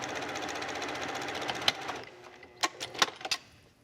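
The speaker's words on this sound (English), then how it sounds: "So I'm just going to sew a seam here, as if I was sewing my garment." A home sewing machine stitches a garment seam in a steady rapid needle rhythm, then stops and gives way to a few sharp clicks and taps of handling nearby.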